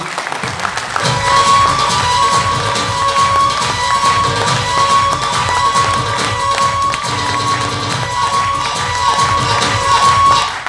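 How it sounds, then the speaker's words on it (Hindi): A hall audience claps and cheers loudly and steadily throughout at a business motivational event, with dense crowd noise and shouting under sustained applause. "तो खुद के लिए एक बार जोरदार ताली बजाएं प्लीज"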